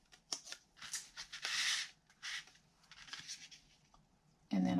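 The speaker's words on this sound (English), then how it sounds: "So again, I'm going to use my tape runner," A tape runner lays tape onto paper strips for a handmade card, giving short scratchy rasps and crisp swipes close to the microphone in a quiet room, a few separate strokes over several seconds.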